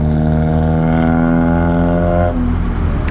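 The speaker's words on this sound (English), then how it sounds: "I really appreciate that tin can exhaust screwing up the audio." A loud tinny car exhaust drones steadily close by, a strong harmonic rumble that holds for about two seconds, then drops away and leaves lighter road noise.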